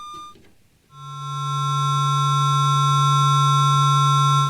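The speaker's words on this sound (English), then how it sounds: "we're modulating the shape or the amplitude of this sine wave with this pulse" A steady ring-modulated sine wave from a Behringer 2600 synthesizer, with a strong low pitch and bright buzzy overtones, swells in after a short blip and holds, sounding electronic and metallic.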